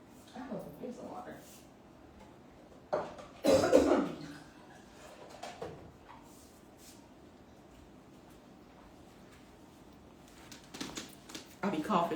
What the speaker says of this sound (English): I'll be coughing, y'all.